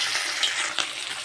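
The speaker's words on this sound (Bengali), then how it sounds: "আমি এখন একটু মাছগুলো দিয়ে ভেজে নেব" Small fish frying in hot oil over medium heat give a steady, close sizzling hiss with a few brief crackling spikes and no voices.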